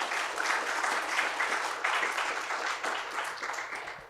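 Audience applause at a startup pitch event, a steady wash of many hands clapping together, fairly loud and continuous throughout with no talk over it.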